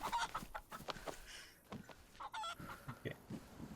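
A chicken in the survival game DayZ clucks in short, choppy bursts, fairly quiet and close, with a few scattered game noises between the calls.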